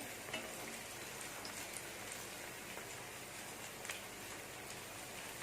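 Cauliflower and cashew pakoda batter frying in hot oil over a medium flame, giving a steady, even crackle and hiss, close and unbroken, with no voices.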